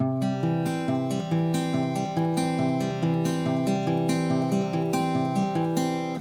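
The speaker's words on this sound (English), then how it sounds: "a 4-note finger-picking pattern that sounds like this" A steady, repeating four-note Travis-picking guitar pattern with an alternating bass, played cleanly and continuously for several seconds, close and fairly loud with no talking.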